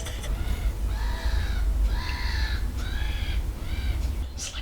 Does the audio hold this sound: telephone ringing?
no